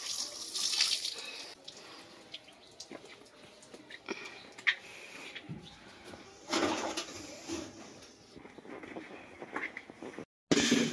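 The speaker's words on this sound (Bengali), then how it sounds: "আম্মু হচ্ছে থালা বাসন ধুয়ে পাপোশটাও ধুয়ে ফেলছে।" Water running from a tap while dishes and a doormat are washed at a village home, a continuous splashing flow with clatters and scrubbing, some birds cooing faintly in the background.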